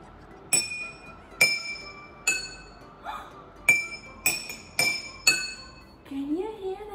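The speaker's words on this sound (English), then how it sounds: "put your glasses in a line, like this. Take your spoon and check." A spoon taps a row of glasses in a homemade glass xylophone, giving eight bright, ringing clinks at an uneven pace, each decaying briefly, followed by a voice at the end.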